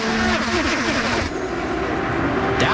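IndyCar engine screaming on board through turn 2 of the Indianapolis 500 in 2012, a loud continuous high-revving drone with shifting pitch, steady and close throughout, with a brief whoosh near the end.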